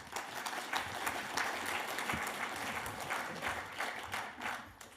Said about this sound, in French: on n'est pas obligé d'applaudir tout le temps, mais on peut continuer